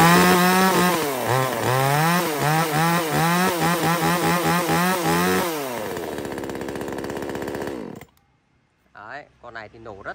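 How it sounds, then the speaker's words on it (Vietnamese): A Kamatsu chainsaw is pull-started and runs loud and close, its engine revving up and down in surges, then settling to a steady idle before cutting out, with a few faint voice sounds after it stops. "giật test nổ cho anh em nghe qua nhá"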